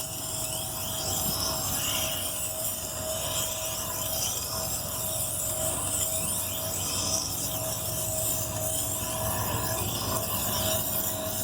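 A badly damaged Dexter knife is drawn along the wheel of a Tormek T2 sharpener, giving a steady, continuous grinding hiss close by with no talking.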